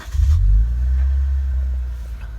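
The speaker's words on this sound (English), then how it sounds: "Let's actually start the vehicle." A Lexus IS250 engine starts up close by, a loud low rumble that swells quickly at the crank and then settles into a steady idle hum.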